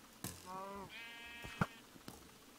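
Sheep bleat in the Minecraft Better Than Wolves game, two wavering bleats close together followed by a few short clicks and thumps, with no talk over them.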